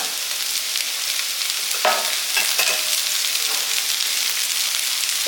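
Sliced vegetables with beans and capsicum sauté together in a pan, a loud continuous sizzle with scraping stirs of a spatula around the middle, close and alone without any talking.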